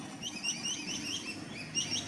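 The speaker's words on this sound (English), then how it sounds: "Birds are going off in this park." In a park near Newell Beach in Cooktown, Queensland, several birds call with faint, high, repeated chirps and whistles over a soft background hum, with no talking.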